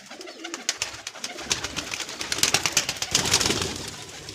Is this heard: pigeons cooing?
yes